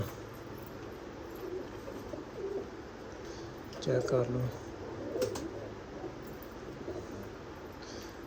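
Pigeons at a Punjabi pigeon sale coo in low murmurs through the clip, with a brief louder burst midway, while someone talks over them.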